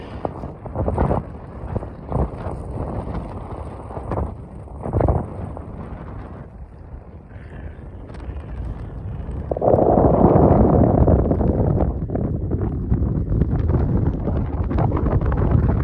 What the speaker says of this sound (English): Bit windy, for which I apologise.